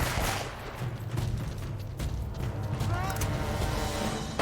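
Gunfire from enemy fights in the Uncharted: Drake's Fortune action game, scattered shots and bursts over a continuous mechanical game background, with someone talking over parts of it.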